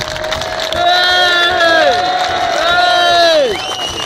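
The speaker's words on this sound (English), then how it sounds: "could I have a rapturous applause for their memory, please?" A crowd at a street demonstration in Dewsbury cheers and shouts in sustained swells, loud and close, with voices rising and falling together.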